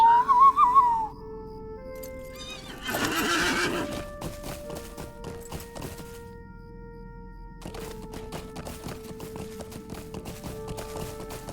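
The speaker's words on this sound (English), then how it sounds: "go ahead and mount on my horse" A horse whinnies loudly in the game Lord of the Rings Online as it is mounted, followed by a rhythmic clip-clop of hooves and a few tonal game notes, fairly close and clean.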